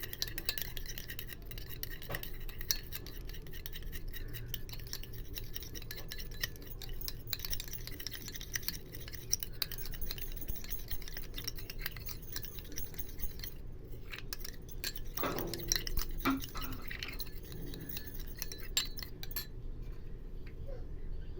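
A spoon stirring orange peel and aloe vera gel into a cream, giving soft, steady scraping and light clinking against the container with no pauses and no talk.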